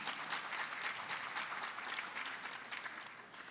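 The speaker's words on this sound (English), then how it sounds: "You could clap." Faint applause from an audience at a school board meeting, a thin scatter of clapping heard from a distance that fades slightly toward the end.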